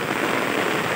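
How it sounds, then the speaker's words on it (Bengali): Heavy rain pours onto a farm field, a dense, steady broadband hiss of drops that stays loud and unbroken throughout, with no voices. "দেখেন বৃষ্টির পরিমাণ কি"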